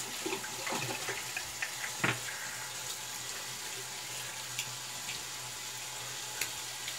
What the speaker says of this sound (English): Let's get that off our hands now and get the brush rinsing.